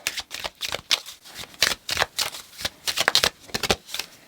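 Oracle cards riffled and shuffled by hand in a tarot reading, a quick run of crisp papery bursts in an uneven rhythm, close and clear with no talking.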